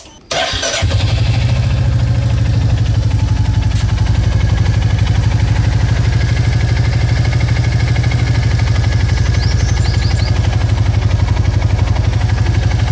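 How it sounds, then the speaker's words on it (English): Royal Enfield Classic 350 motorcycle engine catches on a cold start, then settles into a steady, loud, close thumping idle that runs on unchanged with no talk. "Okay, so I just finished up warming up the engine"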